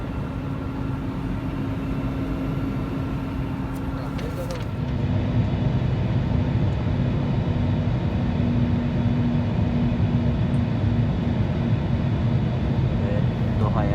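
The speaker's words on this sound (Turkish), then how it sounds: "Ve Doha'ya varmak üzereyiz. Birazdan iniş yapacağız." Steady airplane cabin drone fills the space as the aircraft approaches Doha for landing, a constant low roar and hum that rises slightly partway through and continues unbroken.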